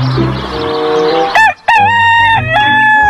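A toy rooster sounds a loud electronic cock-a-doodle-doo, a synthetic crowing call that breaks briefly then resumes with bright sustained tones, close up with no talking.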